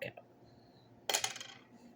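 A metal bottle cap from a Shiner Holiday Cheer Ale bottle drops onto a table, giving a single bright clatter that rings and rattles briefly before settling, close and fairly loud.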